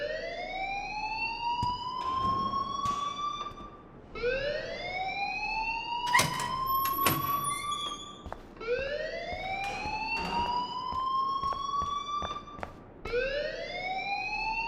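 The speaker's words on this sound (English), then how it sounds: "Please turn off that alarm since that's your job." A rising-and-falling electronic alarm blares in a Life Is Strange school scene, repeating in long loud sweeping wails with short sharp clatters and bangs between cycles, no talk over it.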